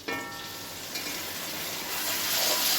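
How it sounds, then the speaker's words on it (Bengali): Chicken added to a pan with green chillies fries with a steady, close sizzle that swells louder toward the end, with a couple of soft stirring knocks early on. "চিকেনটা দিয়ে একটু নাড়াচাড়া করে নিই"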